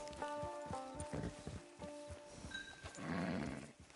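A horse's hooves clop at a walk near a camp in Red Dead Redemption 2 Online, then a short whinny follows, with game ambience and a faint musical tone underneath.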